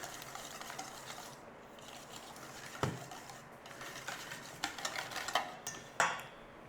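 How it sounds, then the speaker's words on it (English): Buttermilk-based pasta salad dressing is stirred in a bowl with a utensil, giving a steady, close scraping and swishing texture that stays moderately loud, with a few sharper clinks against the bowl and no talking. "Give that a little mix in."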